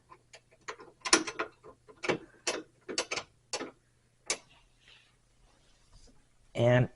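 A screw being tightened by hand into a TV wall-mount bracket: a close series of irregular clicking, ratchet-like ticks in short bursts, with brief pauses and a louder burst at the end.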